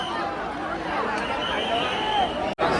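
A huge crowd gathered for the Lalbaugcha Raja Ganesh immersion in Mumbai creates a steady wash of murmuring voices and outdoor hubbub, holding level throughout.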